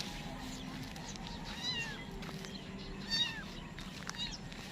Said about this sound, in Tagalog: May tinapo na pusa.